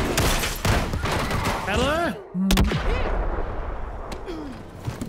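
Gunfire in the Call of Duty: Black Ops 6 prison breakout mission, loud dense bursts of shots with sharp cracks throughout, mixed with game effects and voices talking over the shooting.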